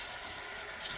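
Tap water runs steadily from a faucet to fill a container for bread dough, a brief even hiss of flow without any voice.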